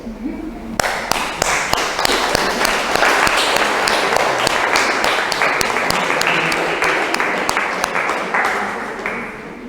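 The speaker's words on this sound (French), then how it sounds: "ils méritent bien vos applaudissements" Audience applause at an evening talk on the biodiversity history of Moorea, a burst of crisp, sustained clapping from a room of listeners that starts abruptly, holds steady, then tapers slightly near the end.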